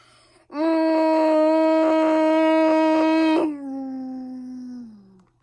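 A loud, sustained, tonal bellow with a wavering quality holds for about three seconds, then drops into a lower, fading tail; a voice imitating a dinosaur.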